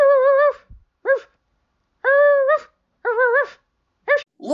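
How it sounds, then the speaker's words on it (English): A dog in a Wizard of Oz radio play, Dorothy's dog, gives a run of short yapping, whining barks in five separated bursts, close and fairly loud with silence between. "Look, it's Dorothy's dog."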